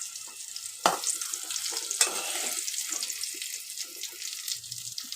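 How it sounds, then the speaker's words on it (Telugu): Chopped coriander fries in oil for a tomato chutney, giving a soft, steady crackling sizzle with a couple of sharper spoon knocks against the pan. "ఆయిల్లోనే మొత్తం ఫ్రై చేసుకున్నా."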